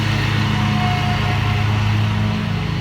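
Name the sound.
neighbor's lawnmower running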